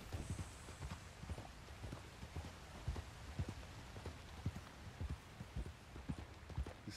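Horse hooves clip-clopping in Red Dead Redemption 2, a steady rhythmic series of soft thuds at walking pace, moderately near but quiet, with a faint hiss in the background.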